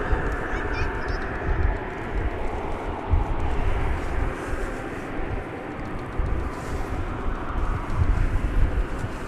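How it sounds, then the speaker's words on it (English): An Airbus A380 jet takes off at DFW Airport, heard from Founders Plaza as a sustained broad roar that swells and fades slightly over several seconds, fairly loud and steady, with no talk. "Airbus A380 headed out."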